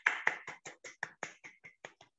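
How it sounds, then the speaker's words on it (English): Rhythmic clapping at a kindergarten event, about a dozen distinct, evenly spaced claps in a steady beat, sharp and fairly close, slowly getting softer. "Please give a big round of applause."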